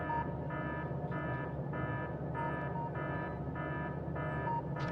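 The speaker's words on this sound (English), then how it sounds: "Let's stop the fluid alarm sound." A fluid alarm in a factory-building video game beeps in a steady repeating pattern, evenly spaced electronic buzzer tones pulsing about every half second over a low background hum, with no talk.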